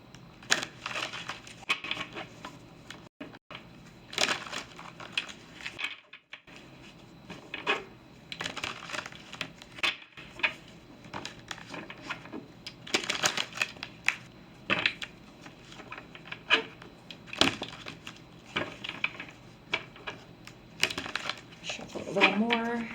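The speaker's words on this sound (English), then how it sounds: "We're going to shuffle these." Tarot cards shuffled by hand in a series of soft papery riffles and taps at close range, interspersed with brief pauses and a speaking voice.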